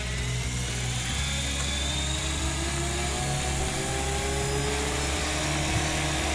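A size 450 MD500E RC helicopter's rotor whirs steadily close by, its whine slowly rising in pitch as it spins up, with a mechanical buzzing underneath.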